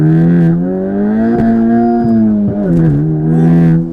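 A Honda car's engine pulls hard from inside the cabin, a strong steady harmonic drone that rises and dips with brief shifts as the turbo comes in, loud and continuous.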